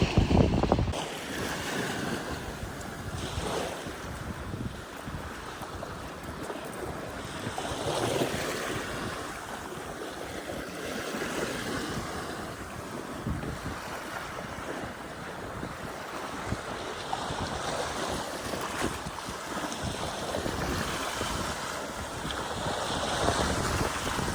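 Ocean surf washing continuously onto the shore while strong wind buffets the microphone, a steady loud roar with rising and falling swells and no voices.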